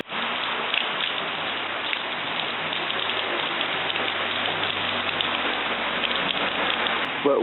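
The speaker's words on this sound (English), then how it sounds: "It's a very nice rainy day here" Steady rain falls on a wet day in upcountry Maui, an even, unbroken patter and hiss of drops on surfaces lasting throughout, close and moderately loud with no talking.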